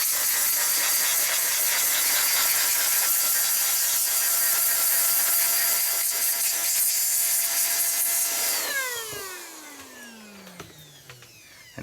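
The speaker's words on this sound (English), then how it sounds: "Anything that I get on there and it actually does stick, I get the air blower" Strong, steady rush of an air blower clearing dust off a Playmates Star Trek USS Enterprise D toy, loud and continuous for most of the span before cutting off and winding down with a falling whine near the end.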